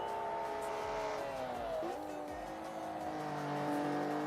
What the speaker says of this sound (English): I just love listening to the car engines going around the track.